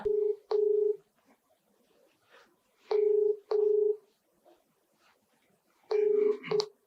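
A phone dials a number with loud, close keypad tones sounding in pairs of short steady beeps separated by pauses, ending in a longer, more cluttered tone burst; no talk.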